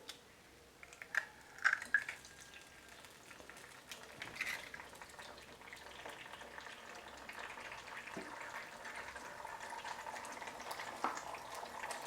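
An egg cracked into hot oil sets off a soft, faint bubbling sizzle that builds and holds steady, after a few small clicks and taps at the start.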